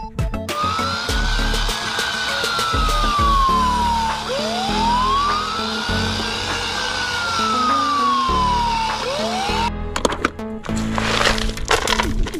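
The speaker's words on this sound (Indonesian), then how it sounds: "Mobil pemadam kebakaran." A toy fire truck siren wails in rising and falling sweeps, loud and close, then cuts off into clattering handling noise near the end.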